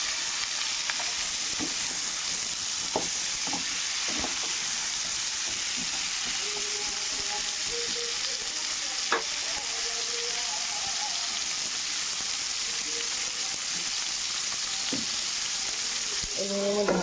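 Bhola fish in masala fries in a pan, giving a steady, loud, close hiss that runs throughout, with a few soft taps of stirring.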